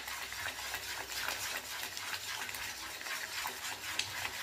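A stick rapidly stirs gram flour (besan) into pitla over low heat, making a faint, steady scraping and swishing with soft bubbling underneath, close and quiet throughout.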